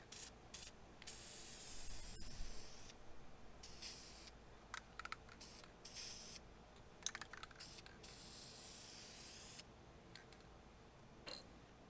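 A spray can applies smoke tint to car brake lights in repeated hissing bursts of a second or two, separated by short pauses and light clicks, close and fairly quiet.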